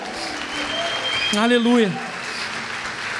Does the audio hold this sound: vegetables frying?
no